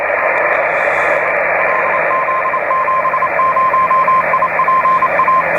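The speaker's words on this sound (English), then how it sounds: "Nice strong Morse code signal coming in." Strong Morse code signal on the 20 metre amateur radio band, a steady keyed tone beeping in quick dots and dashes over a loud, constant hiss of receiver static, with no voices.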